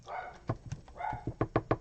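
A dog barks close by in a quiet room. A couple of muffled woofs are followed by a rapid burst of three or four short, sharp barks.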